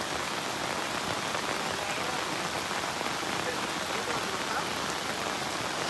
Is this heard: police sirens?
no